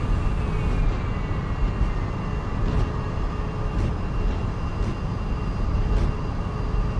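Heavy Boeing 777-300ER airliner in X-Plane 11 rolling out after landing with reverse thrust and manual braking, a steady broad roar with faint intermittent ticks over it.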